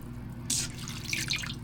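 Water splashes and trickles in a bowl where wild chives are set to soak, a sudden close pour followed by steady dripping and running water, with no voices.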